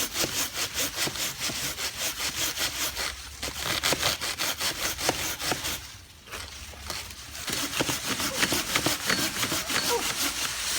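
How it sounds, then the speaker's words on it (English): A very sharp hand saw cuts through a tree trunk about 2 inches thick, giving steady rhythmic rasping strokes up close with a brief pause midway before the sawing resumes to the end. "Very sharp saw. And the trunk must be every bit 2 inches in diameter, maybe even more."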